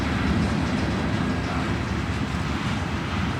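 A model railroad train runs steadily along its track, giving a continuous dense rumble and rattle with no breaks, fairly loud and close.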